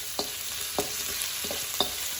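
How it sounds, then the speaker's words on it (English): Garlic and green chili sautéing in a pan for chilli garlic prawns: a steady sizzle of frying underneath, broken by three or four distinct scrapes of a spatula stirring, close and moderately loud, with no talking. "And now let's saute."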